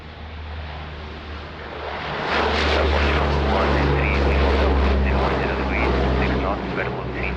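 A jet airliner on approach to runway 02 at Lisbon Airport rumbles steadily, swelling louder as it nears, with a broad roaring whine and some faint voices in the background.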